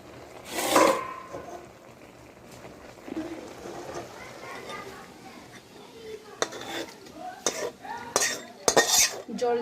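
Boiled taro greens are lifted out of a pot with a utensil so they can drain: scraping, stirring and clattering against the metal pot, with faint talk in places.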